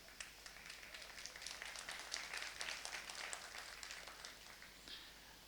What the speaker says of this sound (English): So let's clap to that.